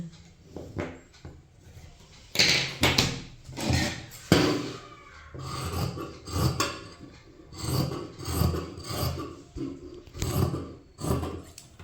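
Scissors cut blouse fabric along a drawn line, making repeated rasping snips in an uneven rhythm that sound loud and close, with no voices.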